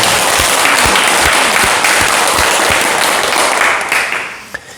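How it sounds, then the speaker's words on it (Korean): An audience at a Buddhist teaching on the Diamond Sutra in Ansan breaks into dense, steady applause that holds loud for several seconds, then tapers off and fades. "먼저 박수 부탁드립니다"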